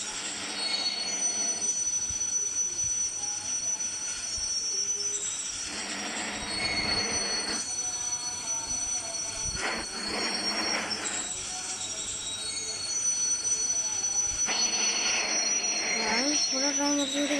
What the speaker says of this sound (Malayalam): ട്രെയിൻ നിർത്തിയിട്ട് ഞാൻ പോകുന്നു.